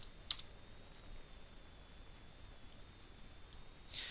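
Faint computer mouse clicks and keyboard taps during CAD work on geometric and dimensional constraints. A few sharp isolated clicks sit near the start and a louder cluster comes at the end, over a quiet steady hiss, with no talking.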